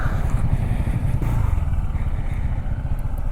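A Honda ADV 160 scooter idling and creeping along as it is parked, a close, steady low engine putter with light clattering over the whole stretch.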